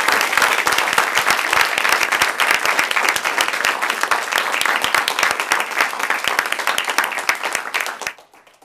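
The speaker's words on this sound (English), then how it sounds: "Please give a big, robust round of applause for our seventh annual CEEJH keynote speaker" An indoor audience applauds the seventh annual CEEJH keynote speaker with a dense, loud, steady round of clapping that keeps going for several seconds and then stops abruptly.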